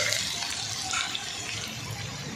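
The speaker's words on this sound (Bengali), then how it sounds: "এবার এতে জলটা দিয়ে দাও।" Water is poured from a tap into a cooking pot for a fish curry, a steady close splashing gush that carries through without speech.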